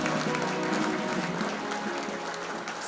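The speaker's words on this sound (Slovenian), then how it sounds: "Velik aplavz." An audience applauding at a Slovenian wine queen event: dense, sustained clapping from many hands, steady and fairly loud from start to finish.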